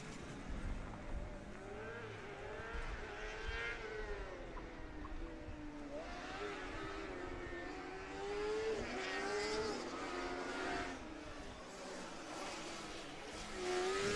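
Formula SAE combustion race car in an endurance event, working through a hairpin, its engine note falling and rising as it brakes and accelerates, heard from a distance against a steady background wash.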